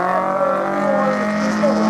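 Loud, steady engine drone of a race car running on a slalom track at Lessay, sustained and close without a clear pass-by, with faint commentary in the background.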